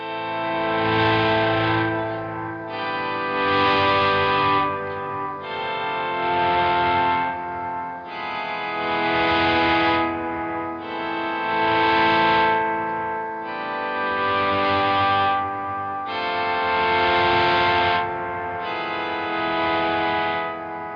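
An electric guitar on the neck pickup, with heavy distortion and chorus-like effects, plays a series of long, ringing sustained chords and notes, each swelling and fading in a slow, regular pattern, with no voices.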